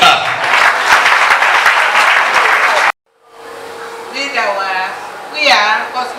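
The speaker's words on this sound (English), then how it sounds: "if you can clap, you clap better" A church congregation at a wedding claps loudly for about three seconds, then it cuts off abruptly and a voice speaks over a quieter background.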